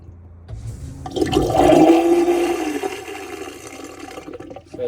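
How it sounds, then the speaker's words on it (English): A macerator toilet aboard a 2013 Concorde Carver boat flushes with a loud, close rush of water that swells and then drains away gradually, with no talking. "So if I just press flush,"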